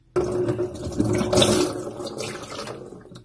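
A toilet flush that no longer drains, giving a sudden rush of running water that swells and then slowly fades over a few seconds with no talking.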